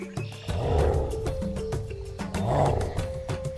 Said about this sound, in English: It's a crocodile!